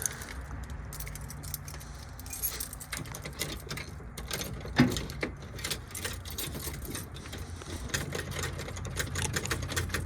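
A 1971 K20 Suburban with a 388 stroker engine cranks and turns over, a steady dense mechanical churning with rhythmic clatter close by. No one speaks.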